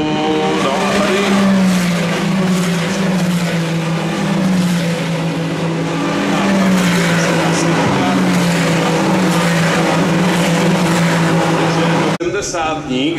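Ferrari Challenge Europe race cars at Brno swinging onto the main straight, a loud sustained engine drone with rising and falling pitch that cuts off sharply near the end, under a commentator's voice.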